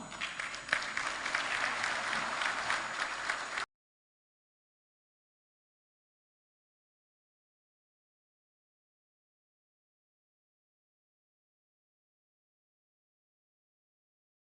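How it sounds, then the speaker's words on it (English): Audience applause at the opening of the G20 Religion Forum (R20) international summit, steady clapping from a large hall crowd lasting a few seconds before cutting to silence. "We have another big round of applause for Secretary General Muslim World League, the Honorable Sheikh Mohammed bin Abdul Kar"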